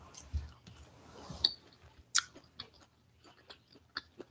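Quiet, close-up chewing of beef shawarma with hummus, soft moist mastication and a few crisp clicks and bites spread irregularly over several seconds.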